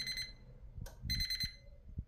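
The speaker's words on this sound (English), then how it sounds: "get ready for the beep!" Oven timer beeping at the end of a baguette toasting countdown: a short burst of high electronic tones, a pause, then a longer beep, fairly close with faint clatter underneath.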